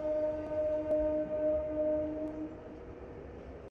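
A MEMU Express electric train pulls out of Bhimavaram Town station, its traction motors giving a steady tonal whine and hum over a rumbling bed of running noise, continuous and fairly close, with no voices.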